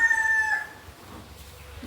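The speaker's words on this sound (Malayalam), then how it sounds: "കുറച്ച് കോഴികളുണ്ട്" A rooster crows loudly and nearby in a yard where chickens are kept, a long drawn call that fades into quiet background with faint clucking, no talk.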